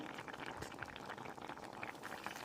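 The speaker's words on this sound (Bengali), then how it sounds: "আমার জলটা ফুটে গেছে" Water boiling in a covered pot with fried fish, cauliflower and potatoes, a steady, dense, faint bubbling that runs without pause and has no voices over it.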